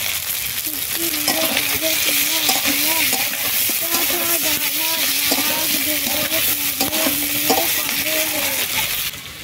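Vegetables sizzle loudly in a pan with five-spice seeds while a utensil stirs and scrapes in a steady rhythm, with a faint wavering voice-like tone underneath.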